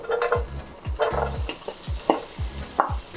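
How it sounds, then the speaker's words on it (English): Onions sautéing in oil over medium-high heat for a lasagna sauce, with rhythmic spatula stirring strokes scraping the pan every half second over a constant sizzle, no speech. "we're going to saute this under medium-high heat"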